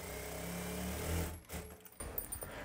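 A sewing machine stitches the side edge of a saree in a steady, close whirring run that stops midway, followed by brief clicks and handling noises.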